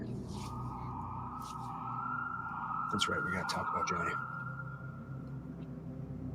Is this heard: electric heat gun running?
no